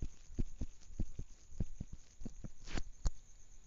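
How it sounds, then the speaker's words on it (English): A racing heartbeat thumps quickly and faintly in a steady rhythm of soft, low pulses with a slight hum beneath, close up and with no voice over it. "it is my current heartbeat"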